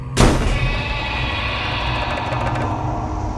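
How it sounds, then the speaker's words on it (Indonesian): A door bursts open with a single loud bang at the start, then rings and fades into a lingering hum. "Pintu kamarnya mendadak terbuka dengan dentuman keras."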